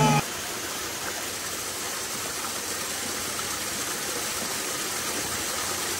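A waterfall on the Silver Falls trail in Oregon gives a steady, broad rushing hiss of falling water that stays even throughout, with no clear voices.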